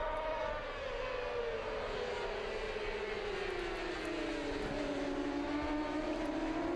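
The #94 Yamaha racing motorcycle accelerates hard on the Dijon circuit during a French Superbike race. The engine makes a loud, continuous rising-and-falling whine that sweeps past with no voices.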